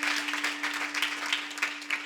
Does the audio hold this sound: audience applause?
yes